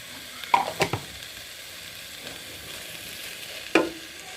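Vegetables frying in a pan with turmeric for vegetable khichuri make a constant hiss, broken by a few sharp spatula scrapes and clacks near the start and once more later; nobody speaks.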